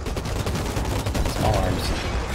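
Small arms gunfire in Outriders sounds as a rapid, steady volley of shots, loud and continuous for the whole moment, with faint speech underneath.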